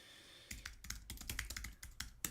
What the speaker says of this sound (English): I'm just typing in the background here because I just want to show you.